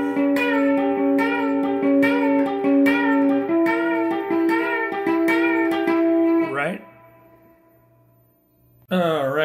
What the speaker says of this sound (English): Right, it's three bends on each part.